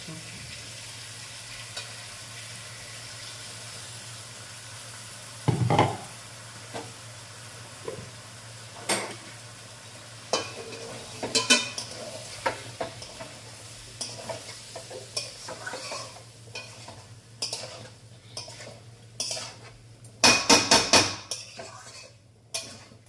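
A spoon scrapes and clatters against a pan as spice paste of ginger, cumin, coriander, green chilli, pepper, tomato and onion is stirred into sizzling chicken curry with vegetables, with irregular loud knocks over a quiet fry.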